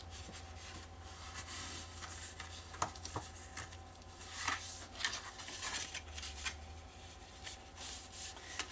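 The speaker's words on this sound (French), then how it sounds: "Alors, vous pliez les 4 plis qu'on s'est fait." Paper pages are folded and creased for a vintage-style mini suitcase craft, with soft close rustles, rubs and a few sharper crinkles in an uneven rhythm over a quiet room hum.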